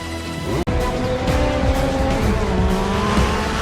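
A motorcycle ridden in a film scene, heading from an airport in Iceland to a university: a loud, close engine revving and shifting pitch, with a sharp cut early and a steady, high-energy drone afterward.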